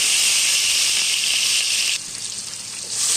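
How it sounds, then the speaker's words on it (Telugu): Chopped onion, tomato and green chilies hit hot oil in a pan for gongura chicken curry, giving a dense, continuous sizzle and hiss that drops slightly in level partway through before rising again. "ఆయిల్ వేడెక్కిన తర్వాత ముందుగా కట్ చేసి పెట్టుకున్న ఒక ఉల్లిపాయ, ఒక టమాటా, 4 పచ్చిమిరపకాయలు సన్నగా కట్ చేసుకొని వేసుకోవాలి"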